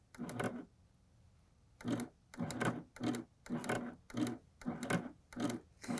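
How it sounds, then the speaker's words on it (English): Baby Lock Applaud sewing machine making short stitching bursts, about seven quick runs of needle chatter with brief pauses between, close and clear with no talking. "I just take a couple of stitches to secure everything in place"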